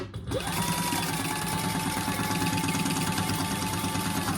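A sewing machine stitches wallet pieces together at a half-inch seam, humming loudly and continuously at close range for the whole stretch after a brief start.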